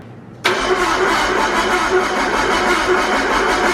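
A Nissan Skyline with an RB25 engine and Garrett turbo cranks and catches abruptly, then settles into a loud, steady idle with a throbbing, close-up rumble.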